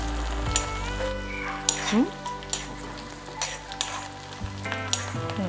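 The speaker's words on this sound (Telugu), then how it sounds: "ఇలా మంచిగా ఫ్రై అవుతుందండి ఎల్లిపాయలు ఉల్లిగడ్డలు కరివేపాకు" Onions and curry leaves frying in ghee, a bright sizzle broken by sharp spoon scrapes and clinks, with a few faint tonal squeaks and a brief low voice.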